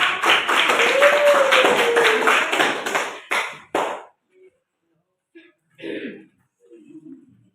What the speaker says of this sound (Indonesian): Marilah kita berikan tepuk tangan untuk